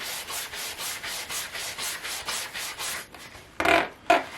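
A leather football being worked over with a Wilson game ball prep kit gives a steady, rhythmic rubbing and scrubbing close by, stroke after stroke, then two brief louder scuffs at the end.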